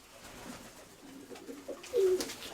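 Young pigeons coo softly in a pigeon loft, with a few faint, low calls and a slightly louder burst near the end against a quiet background.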